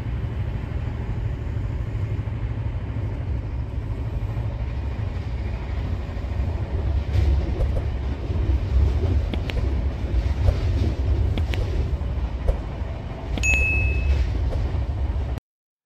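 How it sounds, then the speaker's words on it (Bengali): Himgiri Express passenger train running on the rails after leaving Mokama station, a steady low rumble of wheels with rattling carriage noises and a few metallic dings, heard from on board. "সবেমাত্র মোকামো থেকে বেরিয়ে পড়লো আমাদের ট্রেন"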